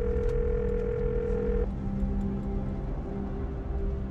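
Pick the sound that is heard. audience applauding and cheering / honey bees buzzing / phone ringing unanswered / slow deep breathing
phone ringing unanswered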